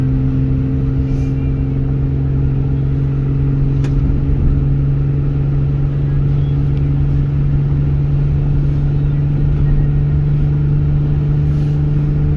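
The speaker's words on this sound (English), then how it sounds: "As I'm driving up the hill, it drives very well." A 1997 Toyota Camry climbing a hill, heard from inside as a steady mid-pitched engine hum with a constant tonal drone and road noise, even and unbroken with no talk.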